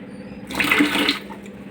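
Waste water from an Aquaguard water purifier gushes briefly into a container for about half a second, a splashing, running burst that rises and then fades back to a quiet hum.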